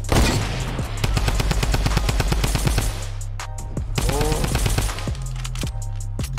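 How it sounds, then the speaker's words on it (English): Shotgun shots in the Fortnite video game, loud rapid blasts fired in quick succession, partly in pairs, close and dense over steady game background sound. "I'm shooting shotgun shells in twos."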